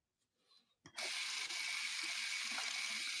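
Hot water from a tap gushes on abruptly after a few faint clicks and then runs steadily and closely.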